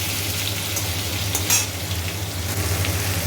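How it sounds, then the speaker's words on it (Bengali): Potatoes and onions fry in a pan with a continuous close sizzle, with a few brief scrapes of stirring and a low steady hum underneath. "আলুটা একটু ভেজে নিয়েছি আগে এবার পেঁয়াজগুলো দিয়ে ভালো করে ভাজবো লাল লাল করে"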